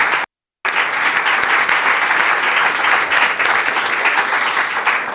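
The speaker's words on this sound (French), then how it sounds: "je pense qu'il mérite une bonne main d'applaudissement pour l'aide" Sustained, full applause from an audience thanking city colleagues at a Longueuil municipal event with the mayor, steady and loud after a brief gap at the start.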